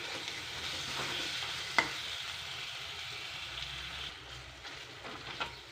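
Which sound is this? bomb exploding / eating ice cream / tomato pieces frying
tomato pieces frying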